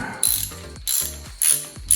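A ratchet socket wrench clicks in bursts while working on the engine of a 1969 Ford F100, with four short runs of close, crisp, rapid clicks separated by brief pauses and no voices.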